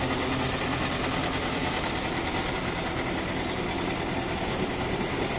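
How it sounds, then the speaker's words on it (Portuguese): A truck-mounted refrigeration unit runs on its own on a parked delivery truck at a fuel station while the truck's engine is off, giving a steady, close, unbroken mechanical hum and whir that holds level throughout. "Maquinão tá ali refrigerando, independente."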